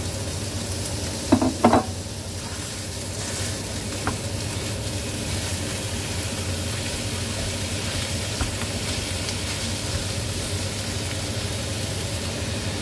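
Ground beef and onions frying in a pan, a steady dense sizzle with a low hum beneath and a few brief scraping stirs near the start, continuous with no talking.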